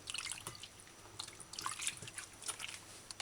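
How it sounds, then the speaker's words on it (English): Tomatoes are rinsed and rubbed by hand in a bowl of water, giving faint, intermittent splashes and drips in irregular bursts against a quiet background. "Wash tomatoes properly."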